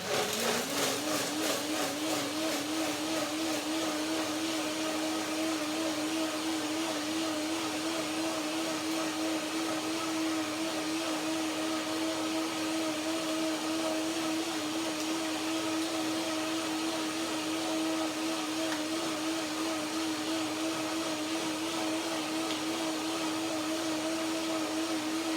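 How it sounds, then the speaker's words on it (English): A blender grinds unsoaked cashew nuts, running continuously at a steady high whir, churning loudly for the whole stretch with a constant motor drone and rattling texture. "This is the first blending."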